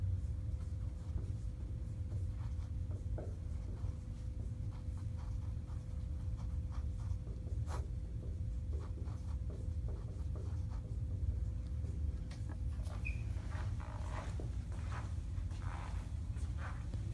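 Faint scratchy strokes of a pen writing on a board in a classroom, in short irregular bursts over a low steady rumble of room noise, with no talk.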